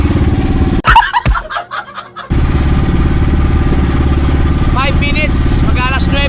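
Engine of a plywood fishing boat droning steadily and loudly, briefly cut out by handling bumps near the start, with talk and bird calls over it later.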